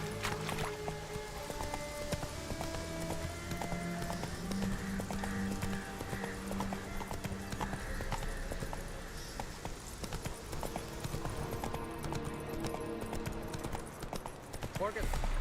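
Horse hooves clip-clopping steadily in The Witcher 3 video game, a continuous close rhythm running under game music and character dialogue.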